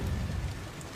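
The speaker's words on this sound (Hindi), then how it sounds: "उसी रात इतनी तेज मूसलाधार बारिश होती है" Torrential heavy rain in a cartoon, a steady dense hiss with low rumbling underneath, loud and continuous throughout with no voices.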